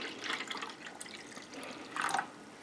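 Liquid is poured into a bowl to make a quick non-toxic bed bug trap, giving a soft, splashing trickle with two louder gushes near the start and end, close by and with no talking.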